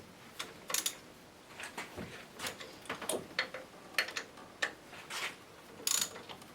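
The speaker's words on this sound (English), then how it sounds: "to advance the timing just a little bit, you loosen these 3 bolts. They're 13mm." Wrench working 13mm bolts on a VW TDI ALH engine during timing work: a series of soft clicking ratchet ticks and small metallic taps at irregular intervals, close but quiet.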